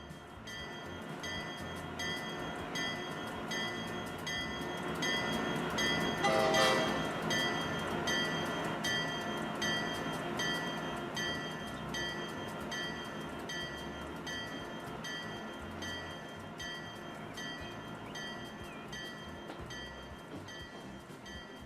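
Trains in the video game Transport Fever 2 give off a steady, moderately quiet rail rumble throughout, swelling briefly around the middle with a bright bell-like ring.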